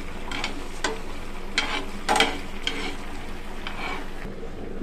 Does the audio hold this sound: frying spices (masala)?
yes